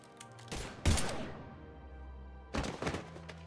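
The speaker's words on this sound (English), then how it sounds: "Now open fire!" Gunfire in the Mass Effect 3 Legendary Edition game: two sharp bursts of shots, one just before the first second and another near the end, loud and close, with low rumble between them.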